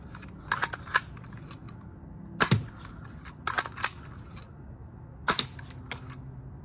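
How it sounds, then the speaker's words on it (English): A 1934 Daisy No 107 Buck Jones Special BB gun being fired, several sharp snapping cracks with mechanical clicks between shots, spaced a second or more apart against a quiet outdoor background. "I'm surprised it's able to fire this well after this long."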